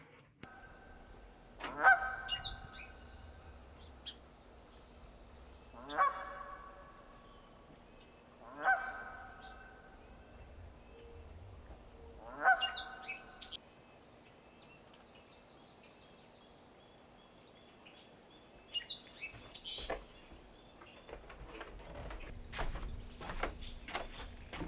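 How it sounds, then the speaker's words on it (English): A lone goose on a pond honks in short, repeated bursts spaced several seconds apart, moderately close against quiet outdoor background, with a few softer calls near the end. "There's a lone goose on the pond."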